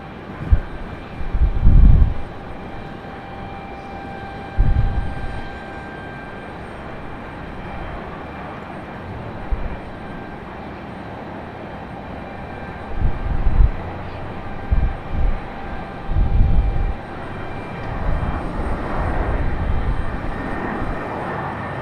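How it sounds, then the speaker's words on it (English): An Air Canada airliner arriving from Toronto lands on runway 23 right at Raleigh-Durham International, heard as a distant, low jet rumble with intermittent louder swells and no talking. "Air Canada coming in from Toronto."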